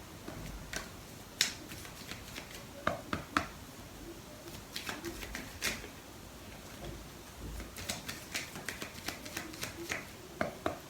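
Paper playing cards being shuffled and dealt during a tarot-style reading, giving scattered soft flicks and snaps, some sharper taps, spread across the stretch with no talking.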